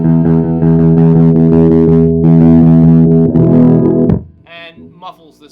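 A 1983 Peavey Mystic electric guitar through its humbucker pickup with the tone dial at 7 rings out thick, dark sustained chords with an overdriven edge, loud and close, ending in a quick choked strum and fading notes.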